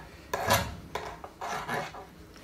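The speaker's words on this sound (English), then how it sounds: "I might just file that so I don't have any problems with it." A metal file rasps across a small metal part from a wooden hand plane to remove a burr, making a few short, close scraping strokes with brief pauses between them.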